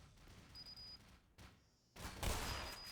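Gunfire in the Black Mesa video game: a few short muffled shots early, then a louder, denser burst of firing with a booming low end in the final second.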